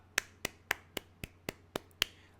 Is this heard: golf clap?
yes